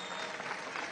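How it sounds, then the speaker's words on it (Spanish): Audience applause at a political speech in Venezuela, a short dense burst of clapping from a large crowd, steady and fairly loud. "Vamos a darle un aplauso"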